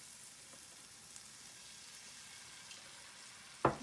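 Pav bhaji masala with turmeric and chaat masala frying in a pan gives a faint, steady sizzle, then a sudden loud hiss bursts out as a little water is poured in near the end.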